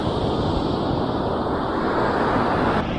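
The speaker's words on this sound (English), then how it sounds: "And so look at those waves." Surf breaks on Sayulita beach in Mexico as a continuous broad roar of ocean waves, with steady hissing wash and wind buffeting the microphone throughout.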